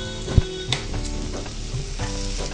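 Noodles stir-frying in a pan over full heat, a loud continuous sizzle with a sharp knock near the start and occasional stirring sounds, no talking.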